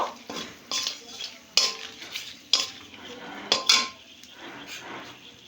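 A bay leaf and dried red chillies are fried in oil in a pan, with a soft sizzle under a series of sharp, close metallic scrapes and clinks of a stirring utensil striking the pan.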